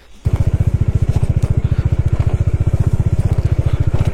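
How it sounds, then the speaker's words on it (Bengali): A motorcycle is eased down a slope on a mountain route from Lachung toward Zero Point in Sikkim. After a brief quiet start its engine throbs close and loud in a steady, rapid putter. "অভিক সরে যা, আমি আগে বাইকটা নামিয়ে দিই।"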